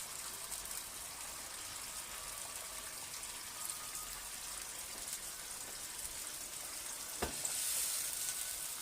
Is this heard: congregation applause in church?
no